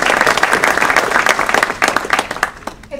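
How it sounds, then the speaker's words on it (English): An audience at Towson University applauds loudly and densely at an afternoon event with Senator Paul Sarbanes. The clapping is steady and close, then thins and fades toward the end. "A round of applause for my officers who have done so much to make this event happen"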